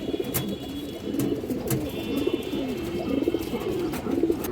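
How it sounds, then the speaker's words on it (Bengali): Large big-headed pigeons coo in a low, steady murmur, with repeated soft coos rolling throughout, plus occasional brief higher chirps over a constant background hum. "এক হাত সাইজের একটা কবুতর বড় মাথার কবুতর"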